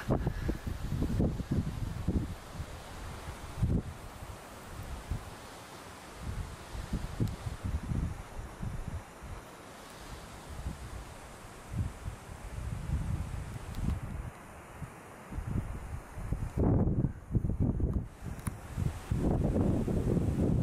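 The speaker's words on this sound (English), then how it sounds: "It's a very windy day as usual." Strong gusting wind at a lake in Patagonia, roaring in uneven surges against the microphone for about twenty seconds and occasionally swelling into heavier buffets, with nobody speaking.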